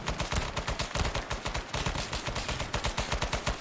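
Gunfire in Arma 3 S.O.G. Prairie Fire: rapid automatic bursts of loud, dense shots repeating steadily throughout, with no speech.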